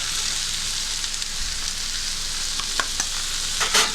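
Tomatoes with salt, sugar and powdered spices fry loudly in a pan for an Indian-style cauliflower and potato dish, a constant bright sizzle with a few stirring scrapes near the end.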